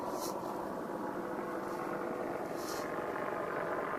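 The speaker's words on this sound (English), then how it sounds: "That's an Apache surveillance attack helicopter." An Apache attack helicopter flies overhead, a steady broadband rotor and engine roar that holds at constant loudness throughout, with faint rhythmic high swishes pulsing through it.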